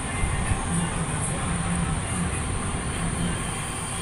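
Children's ride train running at a picnic park, a steady rumbling, rattling ride noise with a constant loud hum and faint repeated clacks, continuous throughout with no talk.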